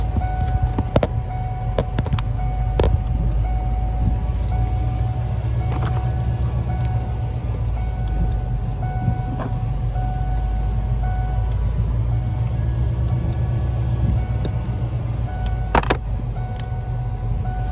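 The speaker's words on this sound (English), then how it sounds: "So I'm gonna try it with the truck running." A Ford F-150 pickup engine idles steadily nearby, a constant low rumble lasting the whole stretch, with occasional clicks and faint tones over it.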